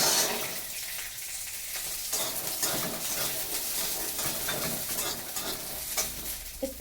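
Green peas frying in a little oil in a wok with dried chillies, a bright crackling sizzle with stirring and scraping throughout, close and steady with no talking.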